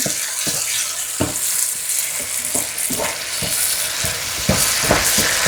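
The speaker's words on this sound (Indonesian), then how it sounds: "sama lengkuas. Tumis barengan." Aromatics including lemongrass, lime leaves and galangal stir-fried in a pan, with a steady sizzle and repeated scraping strokes of a spatula, loud and close.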